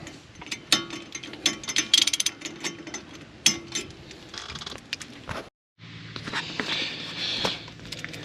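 Socket ratchet turning during front brake work on a 2016 Toyota Prius, a close run of quick clicking and metallic ticks with scrapes and knocks, then a brief silence and a steadier mechanical rattle.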